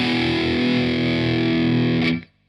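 Dirty-channel electric guitar through a pitch shifter into a Marshall Valvestate amp: one sustained, heavily distorted chord with a shimmering doubled tone, loud and steady before cutting off abruptly near the end.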